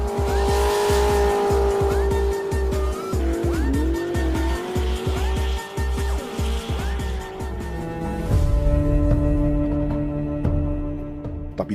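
Race car tearing around a track with tires squealing, a rapid pulsing engine note and sweeping whines as it shifts, loud and close, followed by a deeper revving roar toward the end.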